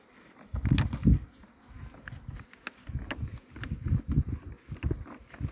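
Low droning buzz of many honeybees swirling around an opened hive after smoking, on a 12°C January day, rising and falling in loudness, with occasional light clicks and rustles nearby.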